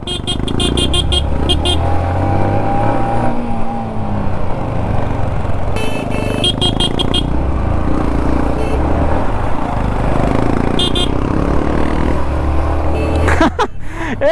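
Busy city road traffic in Bengaluru, cars and motorcycles rumbling past close by in a dense, continuous flow, with repeated sharp horn toots and honks cutting through the steady engine noise.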